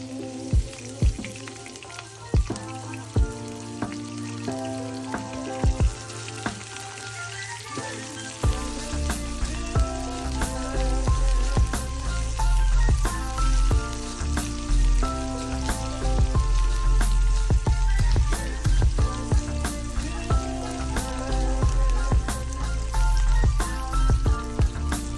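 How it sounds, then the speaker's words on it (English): Green onions stir-frying in a pan for vegetable chowmein give a steady crackling sizzle throughout, growing fuller and louder after the first third, with faint tonal background sounds. "Add green onions and stir fry until it turns golden."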